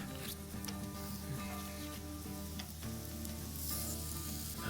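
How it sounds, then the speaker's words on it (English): Corn tortillas toasting on a hot griddle give a steady, faint sizzle and crackle that runs unbroken throughout, with no talking. "I'm gonna throw on a couple corn tortillas to warm them up and to kind of toast them a little bit"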